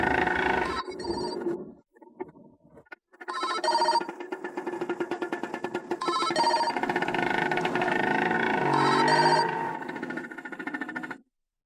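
A telephone rings repeatedly in a tense Indonesian drama scene, steady electronic ring bursts filling most of the stretch after a few short opening chirps, loud and close.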